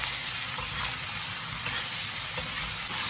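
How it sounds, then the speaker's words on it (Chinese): Sliced radish stir-frying in a hot wok with scallion, ginger and chili, giving a steady, close sizzle with soft scraping of the spatula running throughout. "继续翻炒。"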